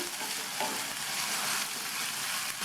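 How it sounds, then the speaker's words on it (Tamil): About 3/4 cup of chopped onion sautés in a pan for a tomato and green peas curry, giving a steady, close, even frying sizzle with soft stirring scrapes throughout and no talk. "இந்த வெங்காயத்தை நல்லா வதக்கிக்கணும்"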